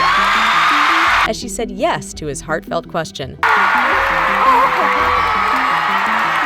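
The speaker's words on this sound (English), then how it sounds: "The crowd erupted in cheers and applause" A crowd cheers and applauds as a dance captain accepts a marriage proposal. The loud, steady roar opens the moment, drops out under a stretch of talking, then swells back and carries on to the end.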